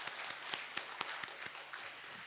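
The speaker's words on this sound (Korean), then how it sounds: "자, 우리 축복하고 축하하는 박수 하도록 하겠습니다." Church congregation clapping in celebration after a Sunday service prayer, a light scattering of distinct hand claps with uneven rhythm, fairly faint and brief.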